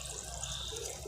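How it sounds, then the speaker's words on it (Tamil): Water poured into a cooking pot holding drumstick, tomato, ginger and garlic for soup, a steady continuous splashing pour running throughout, close and even. "ஒரு 2 கிளாஸ் அளவுக்கு தண்ணி ஊற்றிக்கிடுறேன்"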